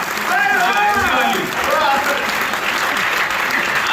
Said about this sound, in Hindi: तालियां जोरदार वाली बजा दो एक बार, हाथ उठा के जरा